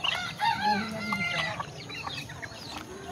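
Domestic chickens cluck and squawk close by while being fed near a flooded riverside village on the Gumti, with overlapping calls throughout and faint voices behind.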